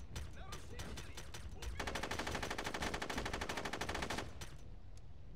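An automatic weapon in the SOCOM U.S. Navy SEALs video game empties a full magazine in a rapid, evenly spaced burst of shots lasting over two seconds, framed by quieter scattered in-game gunfire and ambience.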